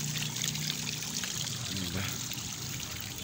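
Water flows steadily out at the foot of a resort pool slide in Laurel, Batangas, a constant rushing trickle with a faint hiss, and a voice murmurs faintly under it.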